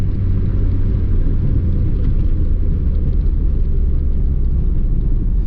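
Inside a 1987 Mitsubishi Lancer 1800 GSR with an intercooled turbo engine, a steady low engine rumble and road drone fill the cabin, continuous and fairly loud.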